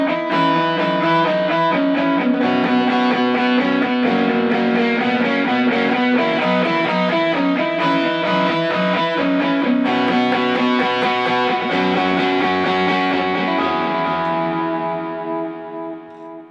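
An intro line played on guitar through a delay effect with no reverb, bright notes repeating and echoing in a steady rhythm, played alone and fading at the end.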